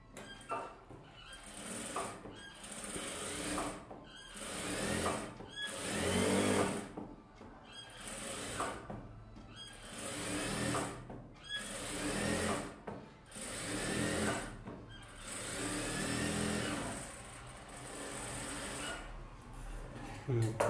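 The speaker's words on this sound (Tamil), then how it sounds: "அதில் ஓரத்தில் ஒரு எஜ்ஜு தையல் போட்டுக்கோங்க" A sewing machine runs in repeated bursts while edge-stitching the folded lining of a blouse back, each short run separated by pauses, with a voice talking over much of it.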